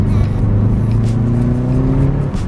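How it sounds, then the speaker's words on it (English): Subaru WRX fitted with eBay headers pulls hard on a test drive, a loud steady engine drone with rising harmonics as it accelerates, the exhaust note continuous for a couple of seconds with no talking. "I'm gonna let it warm up a little bit, and we'll take it for a test drive."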